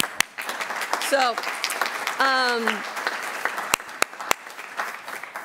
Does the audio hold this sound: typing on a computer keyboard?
no